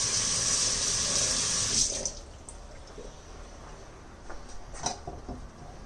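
Tap water runs steadily into a sink while produce is rinsed, a loud broadband rush for about two seconds, then the flow stops and only faint drips and small handling knocks remain.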